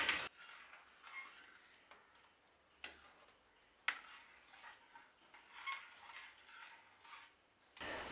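Ash gourd olan with coconut milk is stirred in a pot, heard as quiet, intermittent spoon scrapes and light clicks against the vessel, close by with pauses between strokes and no talking.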